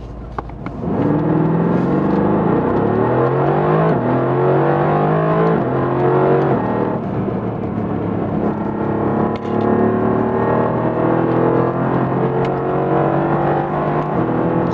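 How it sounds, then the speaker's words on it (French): Mercedes-AMG GT R from early 2019, no particulate filter, driven hard with a loud, continuous V8 exhaust note rising and falling through gear changes, with sharp pops and crackles breaking through close to the microphone. "Et maintenant, on a les petites pétarades à échappement."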